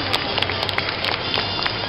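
An audience at a live cat show applauds a performing act, a dense, steady patter of many hands clapping at mid distance, with scattered sharper claps standing out.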